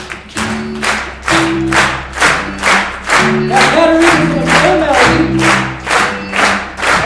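An audience at a TEDx event in Naperville claps in unison, loud steady rhythmic beats roughly every half second, with sustained music tones running underneath.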